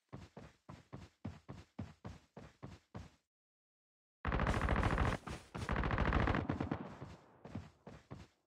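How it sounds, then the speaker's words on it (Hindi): Rapid bursts of automatic gunfire in Call of Duty Mobile Battle Royale rattle in quick volleys, then a pause, then a long dense barrage of shots, sharp and close. "एक नंबर के पास गोली चल रही है."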